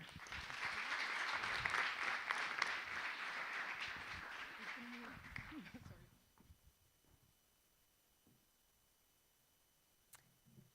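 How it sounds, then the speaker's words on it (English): A full room at a water conference gives a sustained round of applause that swells, holds steadily for about six seconds, then fades out into near-quiet with a brief later knock. "Can we get a big round of applause, everyone, for Eva Schreuder?"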